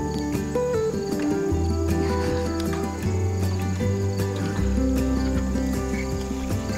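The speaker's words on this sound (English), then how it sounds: "I hear bees buzzing." Insects buzz and drone continuously outdoors during a raspberry harvest, a steady, fairly close hum layered with high chirping tones and no talk over it.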